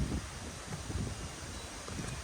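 Low rumbling wind buffeting a microphone, steady and close with gusty swells throughout, no voices.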